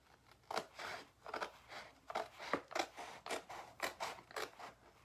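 Scissors snip through a chalk transfer stencil in a quick, irregular series of about a dozen crisp cuts. Each cut is close and fairly quiet, and no one speaks.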